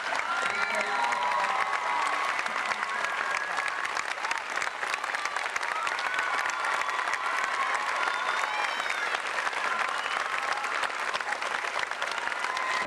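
A crowd at a graduation ceremony gives teachers a standing round of applause: dense, sustained clapping with some cheering, loud and continuous throughout.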